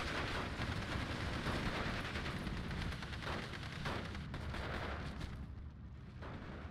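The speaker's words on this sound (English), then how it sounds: "Here you can see the MG42 actually doing a decent job." MG42 machine gun in a WW2 real-time tactics game rattles in a continuous, dense roar of rapid fire, steady and loud for several seconds before easing slightly near the end.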